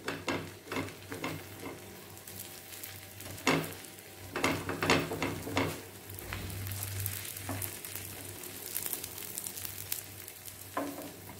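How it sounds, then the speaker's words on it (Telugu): Sweet corn dosa batter fries on a hot pan, a steady close sizzle with soft scraping and pressing sounds from a spatula throughout. "అది కొంచెం వేగేంత వరకు దోశని ఇలా ప్రెస్ చేసుకుంటా కాల్చుకోవాలి."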